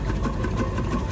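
A colonial steam engine, built for export, runs at the Bloxham Steam & County Show. It makes a loud, close, steady low throb with a faint regular beat and no voices over it.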